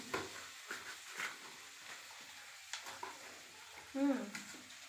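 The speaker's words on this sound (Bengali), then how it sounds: "পনিরগুলো ভালো করে ভেজে নেব।" Paneer cubes frying in a pan, with soft sizzling under intermittent stirring and scraping clinks, faint and close, with quiet speech-like sounds in the background.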